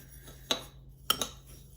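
A spoon stirs basil, pepper and Parmesan in a dish, giving a few sharp clinks against the bowl with soft scraping between them, close and otherwise quiet.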